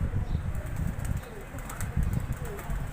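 A pigeon perched high up on a morning rooftop coos softly amid bursts of flapping wings, with background clatter and low, indistinct voices.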